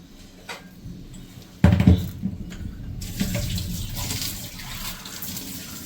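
Water splashes and runs into a banana-leaf parcel holding parshe fish in mustard paste. A soft start gives way to a loud gush, then a steady, close pour that continues to the end.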